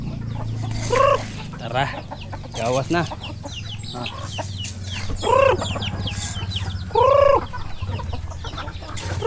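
Chickens cluck repeatedly around a backyard feeding, with short bursts of loud nearby clucking and squawks over a murmuring background. People speak briefly in between.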